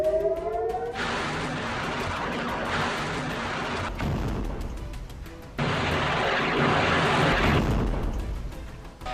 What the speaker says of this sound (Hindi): इस हमले की वजह से मैनिशे और नेतन्या सेटलमेंट के उत्तर पूर्वी इलाकों में हवाई हमलों के सायरन बजे